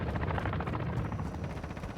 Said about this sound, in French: Le petit hélico qui se trouve ici. Hélicoptère d'attaque, pareil.